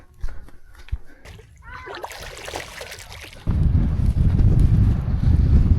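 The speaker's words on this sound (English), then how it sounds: "Oh, there's wind." Gusty wind in Mongolia buffets the microphone, light at first and then a loud, steady roaring rush through the second half.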